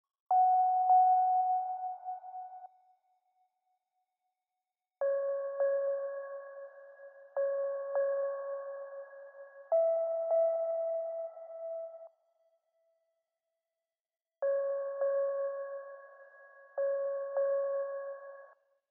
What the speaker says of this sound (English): this simple little pluck from Serum. Actually, it's a bell. It's called Blue Crystals,